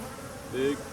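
Honeybee drones drone away in a hive, a brief close buzzing hum that swells slightly for a moment.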